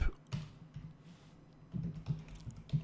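Computer keyboard typing during JavaScript coding, a few quiet scattered key taps near the start and a short burst of clicks toward the end, close and soft with no talking.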